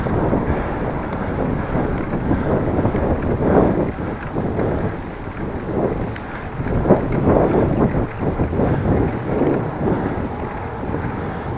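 Steady, loud wind buffets the microphone during a bicycle ride on a Dutch bike between Appingedam and Groningen, a continuous rushing roar with gusty swells and no talk.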